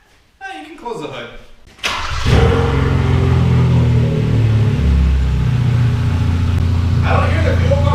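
2015 Hyundai Veloster engine after a braided fuel line install: a starter crank, then the motor catches and settles into a loud, steady idle close by, with people talking over it.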